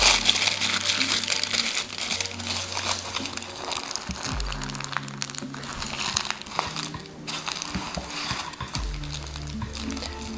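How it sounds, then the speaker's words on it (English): Aluminium foil is wrapped and crumpled by hand around a ball to form a clay and paper mache vessel armature, producing steady crinkling and crunching throughout, with a low hum in the background. "now we're just going to wrap it with the foil"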